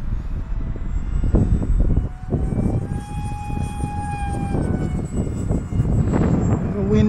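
An Eclipson Inferno model jet flies on its maiden flight, a thin, steady turbine whine drifting in pitch over heavy wind rumble outdoors.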